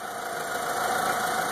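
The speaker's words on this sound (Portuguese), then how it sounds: "Olha, o barulho do motor melhorou." A car engine runs at a steady idle after a change from mineral to synthetic oil, with an even mechanical hum and a light ticking texture close by and no voices.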